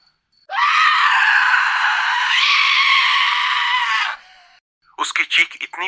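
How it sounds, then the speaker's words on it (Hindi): A witch in a horror audio story lets out a long, loud, harsh shriek lasting about four seconds, followed by a few short strained cries, with no speech over it. "उसकी चीख इतनी भयानक थी कि वहां खड़े पेड़ भी चुप हो गए"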